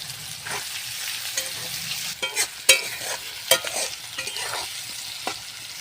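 Chopped onion and crushed garlic frying in a pan for veg fried rice, a soft continuous sizzle broken by several sharp spatula scrapes and taps against the pan, close by with no voices.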